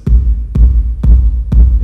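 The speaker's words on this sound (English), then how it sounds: "called a click channel because it clicks" Four sharp, punchy clicks with a low thump from a sound chip's click channel, evenly spaced about half a second apart, loud and electronic.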